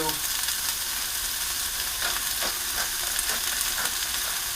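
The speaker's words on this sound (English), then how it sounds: "maintain just a nice sizzle." Food sautéing in a pan during lasagna and pizza prep, a steady close sizzle with occasional stirring scrapes and no voices.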